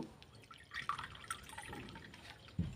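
A bowl of water being poured onto sugar in a pan to make syrup: a quiet, close trickle and dripping splash lasting a couple of seconds, ending with a soft low thud.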